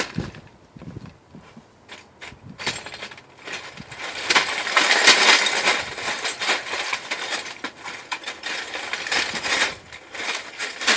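Old non-safety glass from a heavy bay window shatters into countless small shards, giving a long run of sharp clinking, crunching and tinkling pieces that swells in the middle and keeps rattling near and loud throughout.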